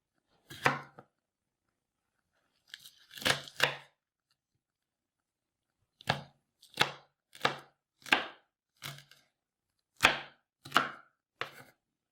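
Knife chopping a bell pepper on a cutting board, with sharp close cuts coming singly and in short groups, around a dozen in all, separated by silent pauses.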